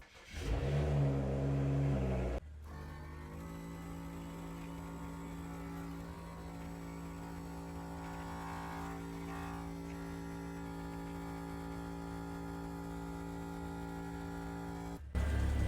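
A Gobege 12V portable off-road air compressor inflates a car tire with a steady, droning motor hum that holds unchanged for over ten seconds, after a brief louder burst at the start, with another burst at the end.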